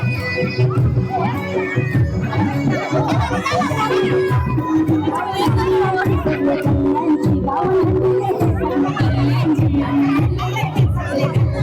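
A dense, loud crowd celebrates at the Narali Purnima festival in Versova Koliwada, Mumbai: continuous cheering, shouting and chatter with a driving rhythmic beat pulsing throughout.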